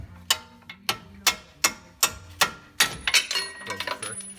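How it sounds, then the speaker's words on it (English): A ratchet wrench clicks on a brake caliper bolt of a newer-generation Mustang GT, sharp evenly spaced ratcheting strokes close up, then faster clicking with metallic mechanical rattle and brief talk. "little ratchet here"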